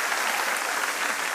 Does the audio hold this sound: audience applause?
yes